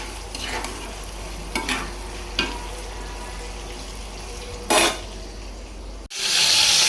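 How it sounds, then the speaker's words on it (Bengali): Meat roast frying in a pan with its spice masala, a constant sizzle under several brief stirring scrapes and a louder clatter, then a sudden cut to a harsher hiss near the end. "আমি রোস্টটাকে একটু ভেজে নিতেছি"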